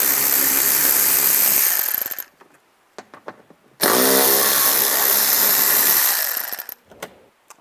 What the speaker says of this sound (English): Underneath here, take these 2 screws out, use an 8mm socket.